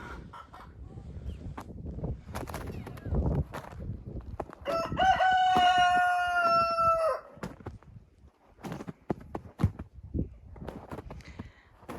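Chickens in a snowy winter yard, a rooster giving one loud, clear crow in the middle, surrounded by scattered clucks and rustling nearby.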